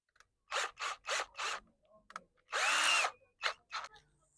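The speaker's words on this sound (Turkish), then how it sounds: "Bir tornavida yardımıyla kolayca sıkabilirsiniz." A power screwdriver tightening a steering wheel assembly, with four short whirring bursts in a row, a longer loaded run, then two more brief spins, close and loud.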